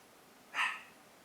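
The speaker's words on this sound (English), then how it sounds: "What are you barking at?" A single sharp dog bark rings out, fairly close, against a quiet background.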